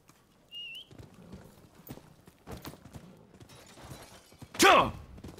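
Horse hooves clip-clop in the samurai action game Rise of the Ronin, a soft rhythmic trot under faint game ambience, ending in a louder burst of sound near the close.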